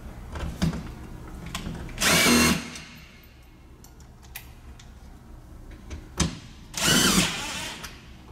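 A power drill drives fasteners into an awning arm mount in two short bursts of whirring, with light taps and clicks of handling in between.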